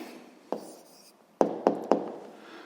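A pen writes an answer down on paper at close range, a few short tapping strokes with quiet gaps between them.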